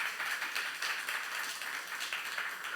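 A church congregation claps together during a youth-group sermon, a steady, dense patter of many hands at moderate distance, filling the moment with no voice over it.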